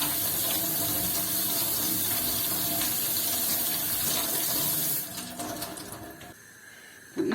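Running tap water pours steadily while brains are rinsed under it in a kitchen sink, a continuous gushing stream that changes and drops off near the end.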